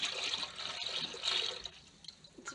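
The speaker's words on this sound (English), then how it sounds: "To use the tap, it's a little foot pedal." Water runs from a foot-pedal tap in a tiny home, a hissing gush that swells and fades in short bursts, close and moderately quiet.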